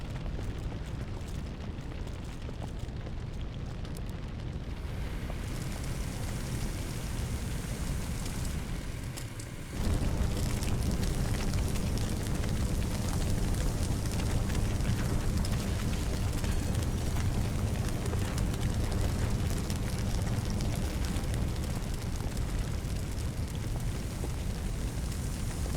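Fire burns inside a room in the video game Firefighting Simulator as a dense, continuous roaring rumble that grows louder and fuller partway through and stays heavy to the end.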